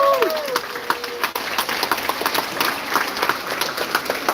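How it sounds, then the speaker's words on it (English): Audience applause aboard a cruise ship during a cooking class, dense clapping throughout, steady and fairly loud, a brief tonal sound at the very start. "Let's welcome them with some applause."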